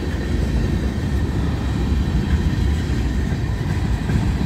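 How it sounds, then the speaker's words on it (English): Southbound manifest freight train climbing a hill, a loud continuous rumble of engines and rolling railcars with faint clickety-clack, close and steady throughout. "He's pulling up the hill, and the more he comes up from that creek down there, the more it gets pulling him backwards."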